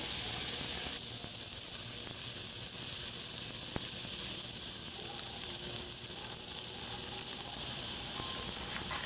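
Snapper fillets and shrimp sizzle on a Lodge Sportsman cast-iron grill, making a steady, close, bright hiss that holds for several seconds with no talk.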